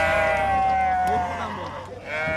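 Sheep bleating among the crowd at a busy livestock bazaar, several wavering calls close by and continuous under people talking, with market chatter throughout.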